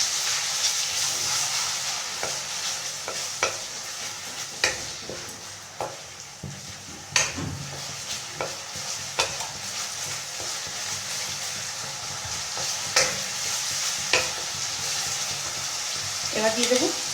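Paste of three medium onions fries in a pan for a Bengali chicken dish, giving an even, close sizzle with scattered clicks and scrapes of stirring.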